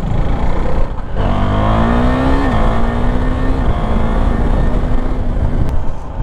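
A Husqvarna Svartpilen 401, a light single-cylinder motorcycle, accelerates hard. The engine note climbs steadily with a brief dip partway through, loud and close throughout, with wind noise and no talk.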